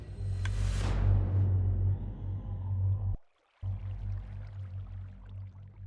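Minecraft custom difficulty sound effect: a lever click layered with a sweeping tonal note, a bright downward swoosh then a low sustained hum, a brief clean cut of silence, then the hum resumes, faint and alone.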